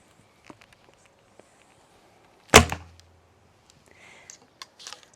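A single sharp arrow release from the Hard Core Bows Scorpion prototype bow, a loud close snap with a deep thump, amid quiet clicks and faint movement.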